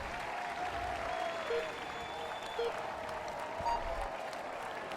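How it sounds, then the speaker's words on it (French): Roadside crowd applauding cyclist Romain Bardet at the start of a Tour de France 2015 time trial stage in Utrecht, a steady dense wash of clapping and cheering held throughout at a moderate distance. "Allez, on l'applaudit bien fort."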